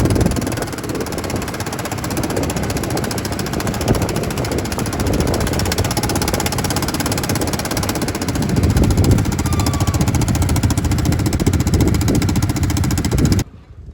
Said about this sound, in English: ATV riding on Bonaire